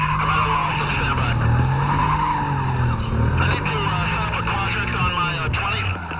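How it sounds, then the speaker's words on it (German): A Porsche skids and slides in Need for Speed Most Wanted (2005) during a police chase, with tires squealing continuously over a loud engine drone, fairly close and with no talking. "ich rutsche sehr, sehr viel mit die Porsche"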